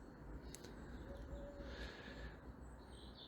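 A pigeon coos softly outdoors in Merseyside, a brief low call rising faintly above steady broadband background noise.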